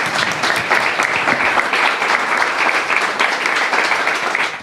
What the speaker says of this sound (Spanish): recibamos con un muy fuerte aplauso a Emanuel Flores Elías